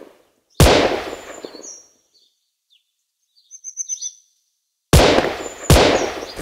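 Gunshots in the mobile shooter game Gun Sprint: two sharp, loud synthetic shots near the start and two more near the end, with brief high chirpy game effects between them.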